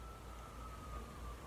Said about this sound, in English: you can hear ambulances right now